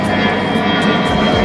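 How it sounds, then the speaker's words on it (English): Airplane climbing out right overhead after takeoff near Barcelona, a loud, close engine roar that fills the whole moment with steady jet rumble and no voices. "the airplanes are now taking off right above us"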